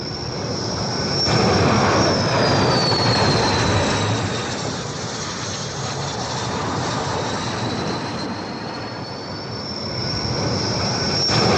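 Aircraft landing on an aircraft carrier, a loud continuous jet roar with a rising and falling engine whine, steady and close for the whole stretch.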